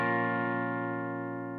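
A single minor chord rings out, sustained and slowly fading, with rich harmonic tones and no other sounds.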